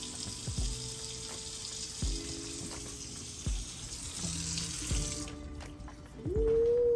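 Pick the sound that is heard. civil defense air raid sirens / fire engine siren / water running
water running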